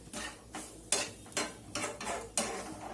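Spiced food is turned in a pan with a metal spoon, giving about six distinct clinking scrapes in an uneven rhythm, fairly quiet and close, with only faint sizzle between strokes.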